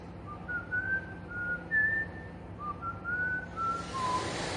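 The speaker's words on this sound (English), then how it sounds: "I was whistling that song as we were hiking" A person whistles a tune while hiking outdoors: a clear, wavering melodic whistle of several held and sliding notes over faint ambient wind noise, with a brief breathy rush near the end.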